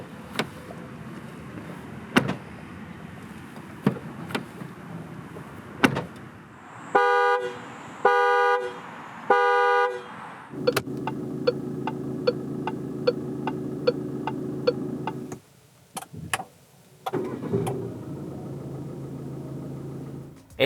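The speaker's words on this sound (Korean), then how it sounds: "잠시 3008이 들려주는 감성 측면의 소리를 들어보겠습니다." 2021 Peugeot 3008 GT: three bright electronic chime-like tone bursts in a row, then a steady low cabin hum with rapid regular ticking and a few brief dropouts. No talking.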